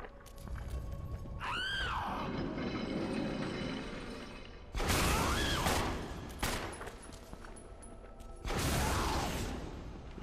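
Rocket launcher blasts from the video game Resident Evil HD come in a few separate loud bursts with mechanical clanks and creaks between them.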